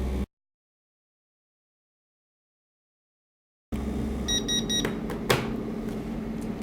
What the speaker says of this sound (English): When you hear the beep, the process is over.